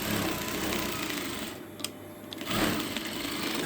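A sewing machine stitches a fabric bow in a close, continuous whirring run, briefly pausing mid-clip with a couple of clicks before the motor picks up again.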